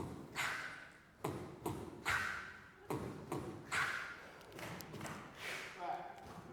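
Flute beatboxing on the syllable pattern "barbecue," a series of percussive breathy tongue-and-breath attacks in a quick repeating rhythm, close and fairly quiet, with vocalized tones mixed in.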